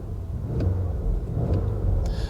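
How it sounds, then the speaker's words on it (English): A 2026 Porsche Cayenne Turbo E-Hybrid SUV in sport plus mode gives a low, muffled exhaust rumble. It stays fairly quiet and steady for a couple of seconds, with faint pulses. "Trying to give you a little bit of an exhaust clip."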